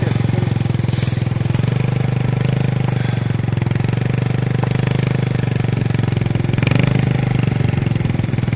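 A motorcycle engine running in winter, a loud, close, steady chugging idle with a constant throbbing drone throughout and faint variation near the end.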